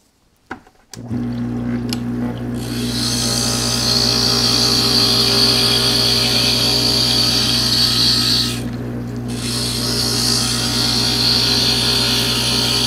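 A glass grinder hums steadily after a couple of sharp clicks as it switches on, its high grinding whine rising and falling while it works triangular stained-glass pieces with sharp points, with a brief dip midway.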